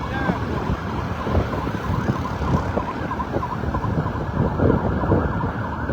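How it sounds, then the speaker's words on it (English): Emergency vehicles with sirens wailing as they move in a line right behind one another, heard from a crowded roadside amid steady traffic noise over the full stretch. "So you can hear siren, vehicles with siren, just in line, right behind each other."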